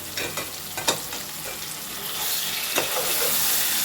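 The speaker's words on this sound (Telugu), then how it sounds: "కాస్త సాటో చేస్తాను" Chicken sautéing with ginger garlic paste in a hot pan: a steady, loud sizzle and frying hiss broken by scraping stirs, with no talking.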